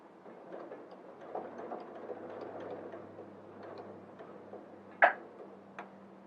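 A sewing machine stitches a partial placket on a garment with a steady, close mechanical whir and a fine ticking rhythm. One sharp click sounds near the end.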